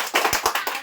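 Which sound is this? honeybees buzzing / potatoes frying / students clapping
students clapping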